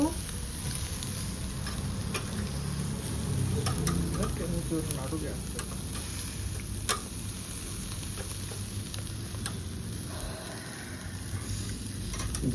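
Chicken tandoori sizzles and smokes as it cooks, giving a steady, dense crackle with scattered sharp ticks and pops over a low background rumble throughout.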